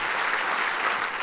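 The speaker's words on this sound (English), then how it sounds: "Can we have a round of applause for them?" Audience at a live show at McCaw Hall applauding, a dense steady patter of many hands clapping at once, sustained and moderately loud for a short stretch.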